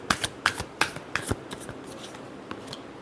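Tarot cards being shuffled by hand, a series of sharp riffling flicks and slaps close to the listener, quick bursts at first then lighter and sparser, with no voices.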